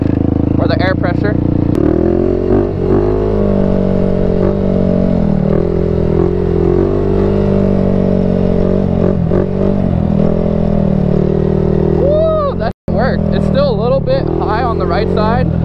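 A wrecked 450 dirt bike roars continuously as it is ridden, its engine loud and close with shifting pitch as the rider works the throttle, while people talk over it.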